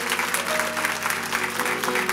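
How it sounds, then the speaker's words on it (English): A church congregation gives a sustained round of hand clapping in praise during a service, dense and steady throughout with a low musical hum underneath. "Y'all give God a hand clap of praise"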